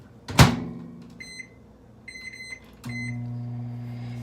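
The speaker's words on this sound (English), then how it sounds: "I'm going to pop this in the microwave for 1 more minute." A microwave oven gets a sharp door thunk, then a few short electronic beeps, and then settles into a steady, low running hum.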